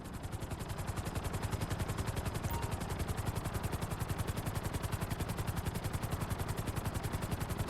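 A helicopter in Grand Theft Auto V on PS4 flies a marked course, its rotor chopping in a fast, even pulse that stays loud and close throughout with no voices.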